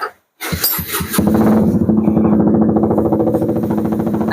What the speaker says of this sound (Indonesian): nanti dulu berisik ada suara motor.